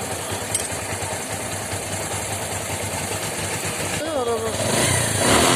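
A Bajaj Discover 135 motorcycle engine, just worked on to remove a bad noise, runs steadily at idle with a close, even chugging hum that rises slightly toward the end, while someone speaks briefly over it.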